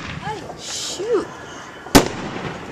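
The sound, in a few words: New Year's fireworks exploding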